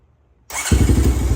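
A 2017 Honda TRX250x ATV in need of a rebuild cranks briefly and then catches, settling into a loud, close, pulsing engine rumble after a moment of quiet.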